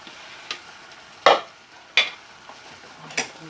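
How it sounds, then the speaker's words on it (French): Peeled chestnuts stirred in sugar syrup in a pot, with a few distinct spoon scrapes and knocks against the pan at irregular intervals over quiet background, close and without talk. "Et on va bien mélanger tout ça."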